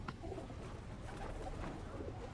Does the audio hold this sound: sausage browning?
no